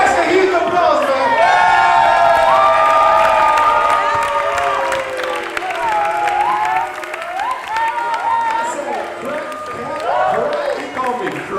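A crowd at a krump dance talk event applauds and cheers loudly for a performer named Cash, with sustained clapping, whoops and shouting voices layered over each other for the whole stretch.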